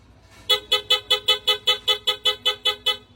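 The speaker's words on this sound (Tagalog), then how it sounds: "Loud horn with combo light." A loud motorcycle horn beeps in a rapid, steady series of about a dozen short identical honks, close and piercing.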